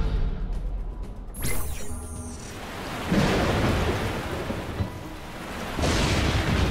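Lightning and thunder effect from the video game Into the Breach: a sharp crack followed by heavy rumbling thunder over steady rain-like noise, with further booming surges later, loud and without talk.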